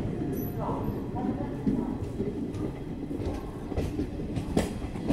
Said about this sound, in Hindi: प्लेटफॉर्म में ट्रेन नंबर 12808 समता